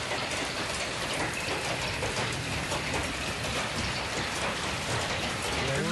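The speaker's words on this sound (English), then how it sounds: "We do have a clear thunderstorm warning. Pretty good heavy rain as well." Heavy rain and hail pour down in a thunderstorm, a dense, steady roar drumming hard on surfaces without a break from start to finish.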